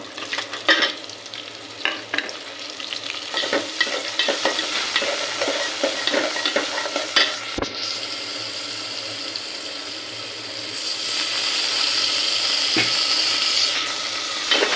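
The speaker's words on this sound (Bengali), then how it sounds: "আর এখানে আমার তেলটা হয়ে গেছে, তো আমি মশলাটা দিয়ে দিব।" Spices dropped into hot oil in a pan for a beef curry sizzle loudly up close, with repeated clattering stirs and scrapes, then a steadier hiss as water is added later on.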